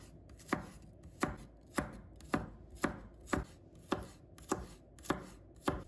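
A knife chops garlic into slices on a cutting board: about ten crisp, evenly spaced chops at a steady rhythm, close and clear, with no talking.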